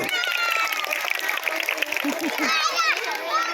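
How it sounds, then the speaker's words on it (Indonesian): Primary school students at an anti-drug awareness session clap together in a lively burst, mixed with children's chatter and an adult voice speaking over it. "Nah, ini tepuk tangan dulu"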